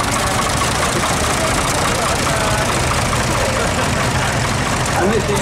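An agricultural tractor engine idles steadily in a show arena, a continuous low rumble against broad crowd and outdoor noise, with people talking nearby.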